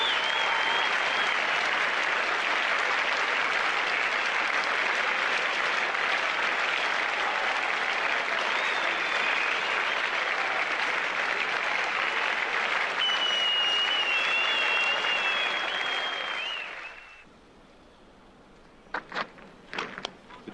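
Sustained applause from a Test cricket crowd of about 7,545 at Brisbane as a batsman walks off dismissed for 90, a dense steady roar of clapping for some seventeen seconds before it fades, leaving a few scattered claps.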